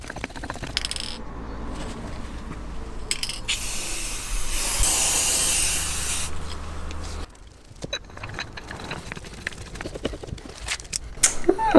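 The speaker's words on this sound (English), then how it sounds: "spray them with some copper grease" A steady aerosol hiss of copper grease spray on car suspension parts lasts a few seconds, loud and close, amid workshop handling noises and rustling before and after.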